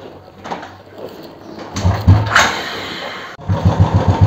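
A Royal Enfield Bullet 350 Classic engine cranks and catches, revving briefly, cutting out for a moment, then settling into a loud, close, throbbing idle.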